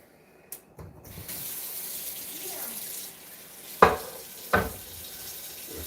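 A tap runs into a sink as an old bacon pan is washed, a soft steady stream of water with a few sharp clattering knocks of the pan, close by and fairly quiet.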